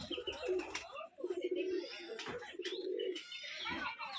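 Big Rajshahi giribaz pigeons on a farm coo in repeated low, throaty rolling phrases, several close by in quick succession. Other birds chirp faintly in the background.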